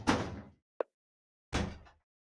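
Doors in a house being moved and shut: two broadband bursts of rattling and closing, with a short sharp click between them, each fading out over about half a second, fairly near, no talking.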